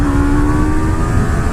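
Yamaha R3 motorcycle pulling hard on a highway, a steady close engine drone with a sustained whining tone and constant wind rush, loud throughout without pauses.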